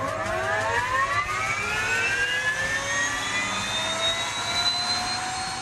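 Bell LongRanger helicopter engine spooling up with a rising turbine whine over a constant rumble, loud and close, used for goose hunting trips at a lodge in Manitoba.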